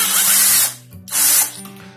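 Electric drill fitted with a step drill bit, running in two loud bursts of high-pitched whirring, each roughly half a second, separated by a brief pause as it spins down and restarts.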